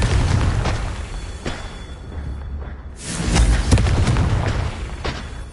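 Confringo fire spells burst in Hogwarts Legacy, giving loud, near, booming explosive blasts that rumble and overlap with whooshing crackle. A brief lull falls in the middle before a heavier surge of booms follows. No one speaks.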